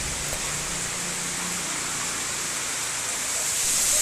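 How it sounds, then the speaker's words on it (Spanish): Steady rain from tropical storm Alberto in Padilla, Tamaulipas pours down as a constant broadband hiss, moderately loud and even throughout with no talk. "Ha estado lloviendo muy frecuentemente desde el día de ayer"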